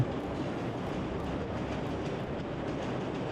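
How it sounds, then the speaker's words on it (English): A train in the video game Crimson Spires pulls out of a station, a steady dense rumble of wheels and carriage noise holding even and close throughout with no voices. "The train is quickly picking up speed as it departs the station"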